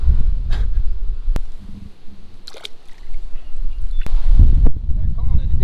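Gusty wind buffets the microphone on a bass-fishing boat out on the water, producing loud, rumbling low-end noise with intermittent knocks and splashes, while people talk nearby.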